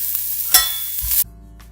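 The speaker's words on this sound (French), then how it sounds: "J'ai remué régulièrement ma pancetta et mon échalote dans ma poêle." Shallot and chopped pancetta fry in a pan, with a short burst of sizzle and a scraping stir that cuts off abruptly into a low, quiet hum.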